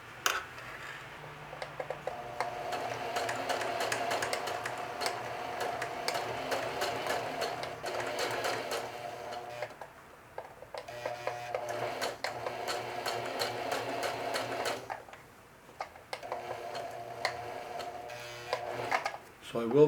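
A sewing machine stitches a denim watch pocket onto its denim shield in long, steady runs of rapid needle chatter, close and loud, pausing briefly between runs and clicking as it stops.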